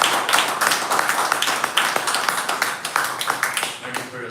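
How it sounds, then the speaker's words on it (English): An audience at a poetry event claps, the scattered claps close and fairly loud, with a voice faintly audible beneath the applause. "Can I ask for a round of applause for him?"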